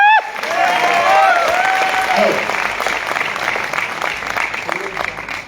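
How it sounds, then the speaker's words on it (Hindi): A seated audience at a company gathering claps loudly and continuously, a broad crowd applause that fades gradually over several seconds, with a voice briefly heard over the start. "एक बार जोरदार तालियां।"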